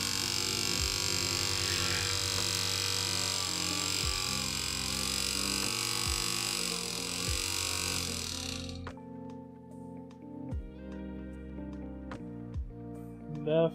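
Paint mixer shaking a pot of separated miniature paint, a loud steady mechanical buzz and hum for about nine seconds that then cuts off, leaving quieter clicks and handling sounds.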